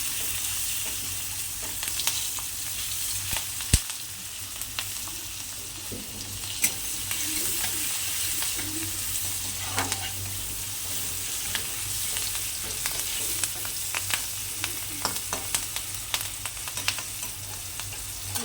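Green chillies with cumin seeds and turmeric fry steadily in a hot kadhai for bendi bhaji, a continuous close sizzle broken by occasional sharp pops and spatters, with no talking.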